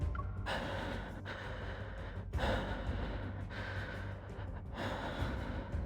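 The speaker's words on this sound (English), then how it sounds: "Oh my gosh, that breathing." A video game character breathes heavily with a run of gasping inhales and exhales, several close, audible breaths in an uneven rhythm over a low steady background hum.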